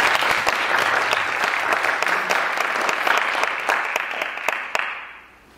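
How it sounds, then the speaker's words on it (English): Sustained applause from the audience at an award ceremony, dense and loud clapping that holds steady for several seconds before fading out at the end. "Please give them a big round of applause."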